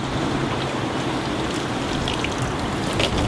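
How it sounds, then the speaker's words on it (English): Water poured over a freshly transplanted seedling to settle the soil, a steady close splashing and trickling wash with no talk. "and then water it in again"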